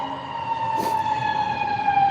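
Fire truck siren sounding outside during an outdoor press conference, a loud steady wailing tone that holds for the whole short stretch with a brief burst of noise near the middle.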